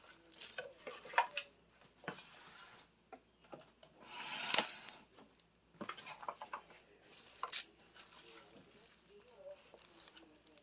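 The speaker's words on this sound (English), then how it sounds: "take the tuna noodle casserole out and put it into my aluminum pan here" Tuna noodle casserole scraped and spooned from a pot into a Dollar Tree aluminum pan, with close, irregular clinks, scrapes and wet stirring sounds in bursts, louder crinkly clatter around the middle, with a faint voice now and then.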